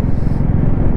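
A Royal Enfield Classic 350 BS7 2024 motorcycle gives a brief, close, deep throbbing engine rumble while being ridden.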